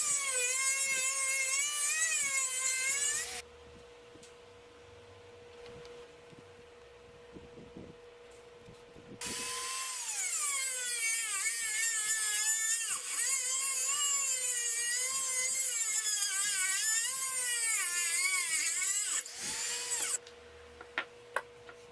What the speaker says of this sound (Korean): 너트를 반으로 절단합니다.